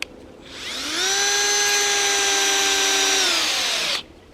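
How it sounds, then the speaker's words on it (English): A cordless power drill spins up and drives a screw at a slight angle into a tree trunk, a steady loud whine held for about three seconds before stopping abruptly. "you'll drive this screw up there at a small angle"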